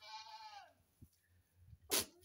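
A goat, likely a Guinea dwarf goat on a pilot farm in the Malian Sahel, gives one clear, close, drawn-out bleat. A short, sharp noisy burst follows near the end, with no talking.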